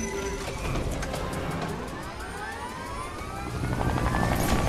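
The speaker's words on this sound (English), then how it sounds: "I need a helicopter! Get to the only singular chopper!" A helicopter in the video game Fortnite whirs continuously with a sweeping, shifting engine tone, growing louder toward the end.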